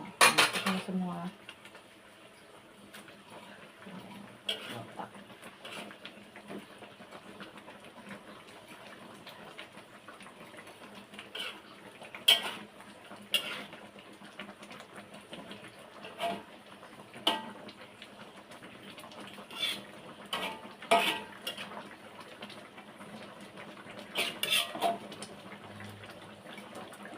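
Metal pots and utensils clank and scrape while salem fish goes into a boiling yellow curry in a home kitchen, with repeated sharp clatters over a low simmering background.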